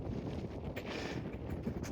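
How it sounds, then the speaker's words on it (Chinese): Strong, cold wind on Mt Yamnuska in the Rockies of Alberta, buffeting the microphone with a constant low rumble and gusty roar, close and loud, with no talk. "现在待一会儿这个地方风很大，很冷啊"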